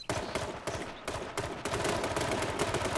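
Rapid bursts of automatic gunfire and overlapping shots crackle continuously in an online shooter video game, dense and fairly loud with brief gaps between volleys.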